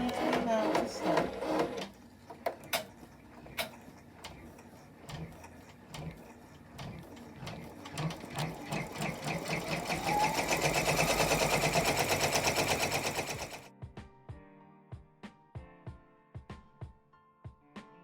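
A multi-needle embroidery machine runs a test stitch, starting with scattered clicks, then building into a rapid mechanical rattling stitch rhythm before stopping, followed by sparse ticking clicks; a voice speaks briefly early on.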